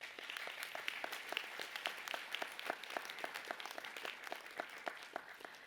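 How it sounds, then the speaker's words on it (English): Graduates at an international students' university farewell ceremony break into a round of applause, steady crowd clapping from a distance throughout, fairly faint with dense overlapping claps. "So give yourself a round of applause."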